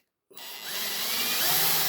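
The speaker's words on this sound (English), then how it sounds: "See that squeaking? Got a bit hot there." A power drill whirs steadily after a brief silence, a thin high squeal from an overheated bit rising over the motor as it drills a Matchbox die-cast toy tanker, loud and close.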